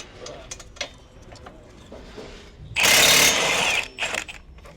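A short, loud burst of a pneumatic impact wrench on a 22 mm brake caliper bolt of a Nissan G35/G37 front suspension, roughly one second long, with quieter shop clatter before and after.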